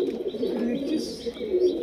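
High flyer and low flyer pigeons coo softly and continuously at close range, with a steady low murmur of overlapping calls and a few faint higher chirps mixed in.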